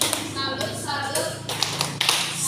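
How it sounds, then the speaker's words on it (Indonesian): Children doing a rhythmic salute clap in a classroom, a quick series of sharp taps and claps in a steady pattern, close and clear, with voices chanting along between the beats. "Baik, tepuk salut."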